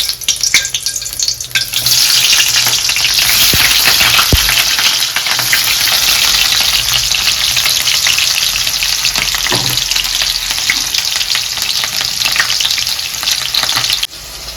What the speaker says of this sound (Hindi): अभी तेल गरम हो गया तो प्याज डालूंगी।